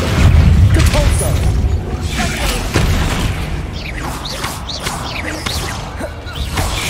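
A Depulso spell cast in Hogwarts Legacy, a loud blast with booming impact, crashing thuds and whooshes over continuous game sound and music.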